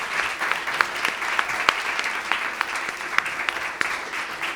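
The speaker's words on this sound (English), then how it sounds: "please give them a massive round of applause" Audience applause for the teachers at a children's music festival concert, a steady wash of clapping from a large crowd with individual claps popping out, sustained at moderate level throughout without speech.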